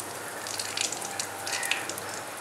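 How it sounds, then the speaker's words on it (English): Potato lollipops frying in a small amount of oil in a pan, a faint, steady sizzle with soft crackles and no talk. "Not added a lot of oil, so I'll be like tossing and frying these."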